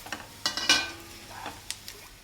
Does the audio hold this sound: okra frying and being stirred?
yes